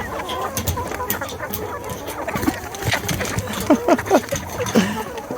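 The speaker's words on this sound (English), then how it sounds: "Up next, the forever hungry meat chickens." Hungry meat chickens on a farm cluck and squawk at feeding time, a busy flock of overlapping calls with sharper bursts near the end.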